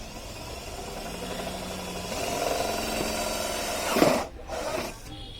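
A homemade electric motor on a mini bicycle runs with a steady mid-pitched whirring hum. It swells briefly, then ends in a short louder rush as the ride goes on, with no talking.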